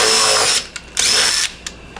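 Power drill driving self-tapping screws into sheet metal while making custom floor pans for a 1957 Chevy 210 Bel Air station wagon: two loud, close whirring bursts of about half a second each, with short blips of the trigger between them.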